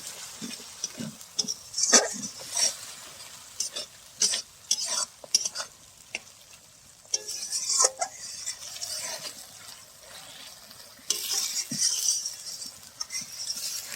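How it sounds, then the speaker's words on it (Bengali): Spices with slit green chillies being fried for a taro and fish curry, with bursts of scraping and stirring in a pan over a soft sizzle, close and intermittent, some louder clattering strokes near the end. "দিয়ে দেবো চেরা কাঁচা লঙ্কা, ভালো করে এবার মশলা কষিয়ে নেব।"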